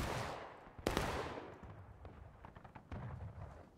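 Musket volley fire in the Civil War video game War of Rights, a loud sharp report followed by a scattered crackle of distant shots, with another burst near the end.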